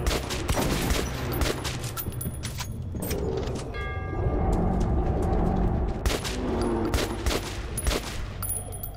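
Rapid bursts of gunfire in Metro 2033 Redux, loud and sustained across the stretch with brief pauses, mechanical clatter and metallic clinks between volleys, faint talk underneath.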